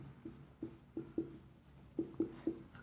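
Handwriting on a drawing sheet for a drain and earthenware pipe drawing, a quiet series of short scratchy pen or pencil strokes in an irregular rhythm, close and alone.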